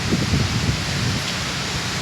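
Steady rain from Cyclone Ditwah pours continuously in Chennai, a dense hiss with a low rumble underneath and no voices.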